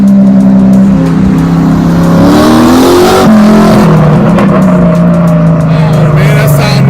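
Turbo Mustang race car engine roaring loud and close as it accelerates hard, the pitch climbing through a gear change, with a brief tire squeal and crowd noise mixed in.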